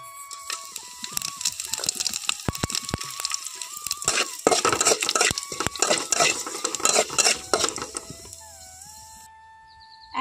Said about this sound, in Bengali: এখন আমি সেই কড়াইতে কিছুটা পাঁচফোড়ন আর শুকনো লঙ্কা একটা এখানে দিয়ে দিচ্ছি।